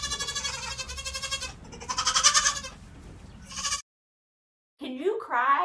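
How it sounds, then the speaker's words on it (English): Baby goat kids cry loudly for their bottles in a string of close, wavering bleats, then fall silent for about a second before more bleating resumes. "Oh, I hear you baby goats out there."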